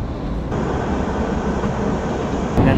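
Kalka–Shimla toy train rolling into Shimla station, a steady close rumble of wheels and carriage noise filling the whole stretch, with a slight lift in level near the end.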